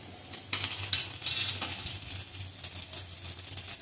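Sliced okra hitting hot oil in a pan on a low flame for bhendi batata bhaji, a steady close sizzle broken by scraping stirs and spoon clinks against the pan.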